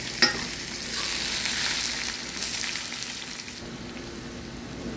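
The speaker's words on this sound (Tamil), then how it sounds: "எண்ணெய் காஞ்சிட்டு கடுகு ஜீரகம் சேர்த்துருக்காங்க, காஞ்ச வத்தல் சேர்த்துருக்காங்க, அது கூட பூண்டு சேர்த்துருக்காங்க" Mustard seeds, cumin, dried chilli and garlic fry in hot oil, a continuous close crackling sizzle with light stirring and an occasional sharp tap near the start.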